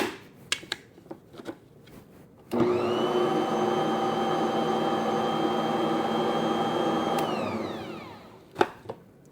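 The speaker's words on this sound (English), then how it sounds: "And this mixer is very powerful. It mixes up a ton of ingredients in very little time." A powerful stand mixer starts abruptly and runs at a steady loud whir for about five seconds, mixing pizza dough of flour and other ingredients, then winds down; light kitchen clatter comes before and after.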